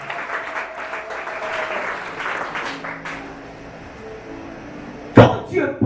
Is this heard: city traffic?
no